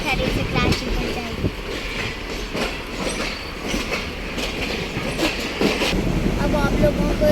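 Passenger train on the Lahore to Karachi route pulling away, steady rolling rumble with rhythmic wheel clatter heard from inside the carriage, voices murmuring in the background.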